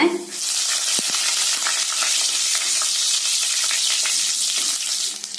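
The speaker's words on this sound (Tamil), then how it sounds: "அதில் கடுகு, வெள்ளுளுந்தம் பருப்பு, கடலைப்பருப்பு, முந்திரி, இதெல்லாம் நல்லா வறுத்துக்கலாங்க இந்த ஆயில்ல." Mustard seeds, urad dal, chana dal and cashews fry in hot oil in a pressure pan for brinjal rice. A steady, close, crackling sizzle runs throughout, with a brief scrape of stirring near the start.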